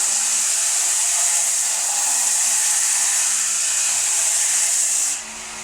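A Forestwest 4 x 6 inch 0.5 HP belt and disc sander chamfers the corner of a wooden piece, giving a steady, loud broadband whirr that holds evenly for about five seconds, then drops off near the end.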